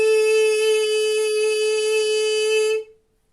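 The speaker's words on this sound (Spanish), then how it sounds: "Una nota sin vibrato suena de la siguiente forma." A single sung note held steady without vibrato, about 2.8 seconds long, loud and close, with a rich, even tone that cuts off cleanly into silence.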